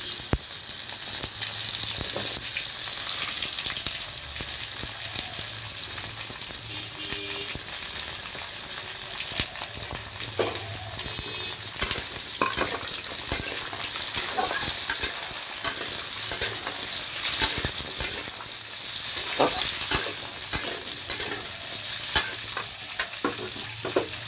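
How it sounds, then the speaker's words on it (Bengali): Potato and taro pieces fry in a pan with a steady, close sizzle throughout, broken by repeated scraping stirs. "এবারে আলু আর গাঁঠি কচুটা আমি ভাজা হওয়ার জন্য আগে দিয়ে দেবো"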